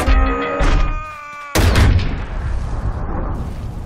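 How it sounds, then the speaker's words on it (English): Cannon blasts and explosions pound a boom cannon during an attack in the mobile strategy game Boom Beach: a loud, sharp boom about halfway through, then a rumbling wash of battle noise. "Johnson, attack that boom cannon!"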